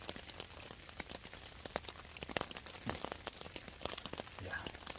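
Rain falling on a tarp over a winter hammock camp, a faint, steady patter of scattered drops with occasional sharper taps.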